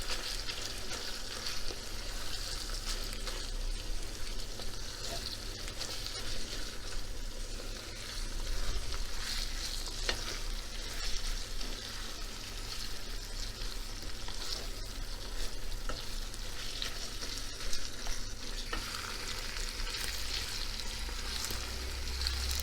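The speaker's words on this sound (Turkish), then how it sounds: "Kıymamız kendi yağını da bıraktı. Kendi yağında böyle cızır cızır çok güzel kavruluyor." Ground beef browns in its own rendered fat, giving a continuous, even crackling sizzle at moderate volume that carries on without pause.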